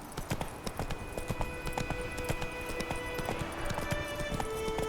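Roach the horse gallops in The Witcher 3: Wild Hunt, with quick rhythmic hoofbeats clopping steadily throughout over faint background game sounds.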